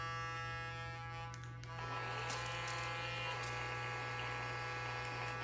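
A handheld electric toothbrush from a two-in-one brush and water flosser hums steadily up close, its buzzing tone shifting into a rougher pulsing pattern as it switches modes.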